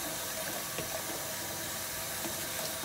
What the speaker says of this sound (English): just gonna give it a quick rinse with some hot water